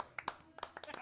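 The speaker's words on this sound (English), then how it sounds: "I've never had a round of applause for the drinks before." Hands clap in a quick, uneven round of applause in a pub, a few close sharp claps mixed with people talking.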